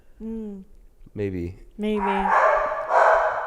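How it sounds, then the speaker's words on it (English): A pet dog lets out two or three short, close barks or yelps, interleaved with a person talking, followed by a stretch of rustling noise. "Sorry about my dog."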